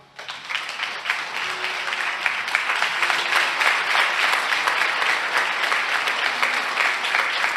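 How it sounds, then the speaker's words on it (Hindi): A church congregation applauds together, dense sustained clapping that swells after a quiet start and holds loud and steady, with no talk over it. "तालियां बजाइए।"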